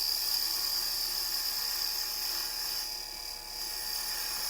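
A Porper Q-Lathe Model B cuts fine lines into a small-diameter wooden piece, giving a steady, high, thin whine that runs unbroken for the whole stretch with one brief dip near the end.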